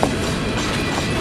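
CSX coal train passing close by, a steady dense roar of rolling railcars with faint wheel clatter, continuous and loud throughout, no voices.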